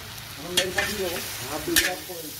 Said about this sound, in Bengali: নোটে শাক রান্না হচ্ছে।